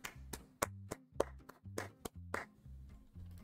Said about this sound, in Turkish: lütfen kendinizi bir alkışlayın